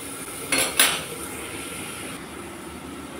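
A lid goes onto a pan of fish seasoned with turmeric and salt, giving two quick metallic clinks, close and moderately loud, followed by a low background hum, with no talking.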